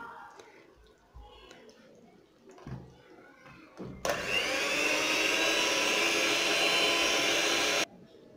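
A blender grinds muufo flatbread dough with added water, starting abruptly after some quiet kitchen handling and running as a loud, steady whirring roar for about four seconds before cutting off.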